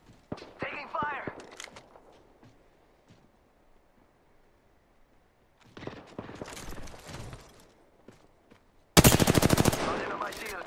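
Automatic gunfire in the video game Apex Legends: a few quick shots early, scattered firing mid-clip, then a loud, rapid burst of machine-gun fire near the end, with players talking in between.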